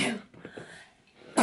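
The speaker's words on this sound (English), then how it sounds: "I sneeze." A single sharp sneeze bursts out at the start, followed by a short breathy pause and another quick exhale at the end.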